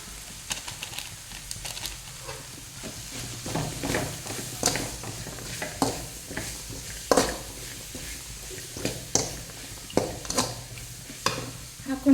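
A spatula scrapes and stirs in a pan as a vermicelli upma mixture with Maggi masala powder fries. Irregular clicks and scrapes sit over a faint sizzle, close and fairly quiet.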